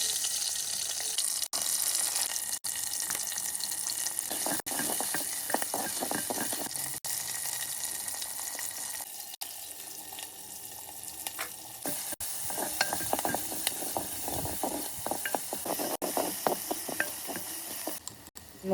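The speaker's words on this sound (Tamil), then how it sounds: "ஃபஸ்ட்டு ஒரு மண்சட்டியில் எண்ணெய் ஊற்றி கடுகு, வெந்தயம், சின்ன வெங்காயம், பச்சை மிளகாய், கருவேப்பிலை, தக்காளி எல்லாம் சேர்த்து நல்லா வதக்கிட்டாங்க." Onions, tomatoes, green chillies, curry leaves, mustard and fenugreek sautéing in oil in a clay pot, a steady sizzle with frequent scraping stirs and clinks close by, and no talk.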